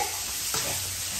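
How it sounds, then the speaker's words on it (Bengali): Onion stalks frying in a home kitchen, a soft continuous sizzle heard faintly in the background for a moment, with a light stirring knock. "ভাজা হচ্ছে পেঁয়াজ কলি ভাজা হচ্ছে"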